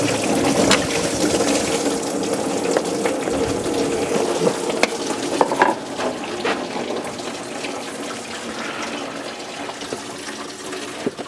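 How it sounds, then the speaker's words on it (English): Coolant draining out of the radiator of an IROC car, a steady continuous watery trickle and splash running throughout, fairly close, with a few louder drips and clatters on top. "the only thing that we have to contend with is this draining of the coolant"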